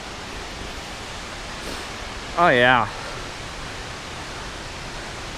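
Comet Falls on the Van Trump Trail roars as a large waterfall, a constant broadband rush filling the background while someone briefly speaks over it.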